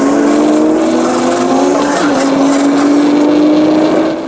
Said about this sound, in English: With a slight head start, Samantha's Corolla hooks up in first and second gears.